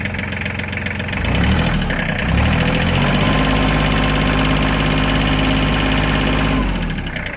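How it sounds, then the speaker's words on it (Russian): A Japanese ISEKI mini tractor engine idles steadily in cold weather, a close, even diesel-like knocking rumble that runs loud and unbroken throughout, with no voices. "Двигатель работает ровно."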